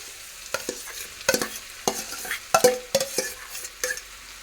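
Spoon stirring boiled potatoes with spices in a sizzling frying pan, scraping and clanking in irregular strokes close by over a faint fry, with no talking.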